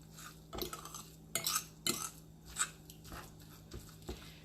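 A spoon stirs and mashes a mackerel cake mixture with plenty of garlic in a bowl, making repeated close scraping, clinking and squelching strokes at an irregular rhythm.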